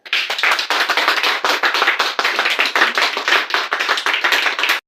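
A congregation at a church service in Yaoundé claps steadily and fast for nearly five seconds, close and loud, filling the room with dense applause.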